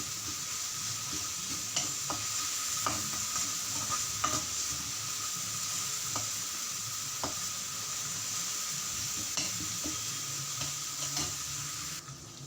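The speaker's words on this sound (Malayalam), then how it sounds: "നല്ല പൊടിയായി അരിഞ്ഞ ചെറിയുള്ളി അതിലേക്ക് ഇട്ടിട്ട് നല്ലപോലെ ഇളക്കി കൊടുക്കുക" Finely chopped shallots sizzle in hot coconut oil while a spoon stirs them, giving a continuous fry hiss punctuated by regular scraping clicks against the pan, close and without speech.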